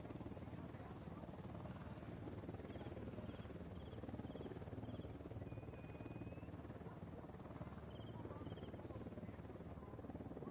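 Helicopter in a PS4 shooter game set among cartel gunmen: a steady, loud rotor drone fills the scene continuously, with faint chirps and a brief tone in the background.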